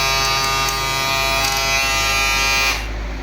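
A PROBarber S1085 hair clipper runs with a loud, steady electric buzz up close, then cuts off near the end.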